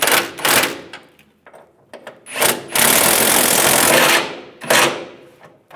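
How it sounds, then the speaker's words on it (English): Ratcheting wrench tightening the side nuts on a center bumper step pad of a 2007-2013 Chevrolet Silverado 1500, heard as bursts of close metallic clicking and scraping with a longer sustained run in the middle, no talking. "And tighten the side nuts down."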